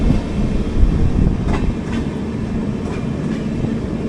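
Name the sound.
12201 Garib Rath Express train running on Konkan Railway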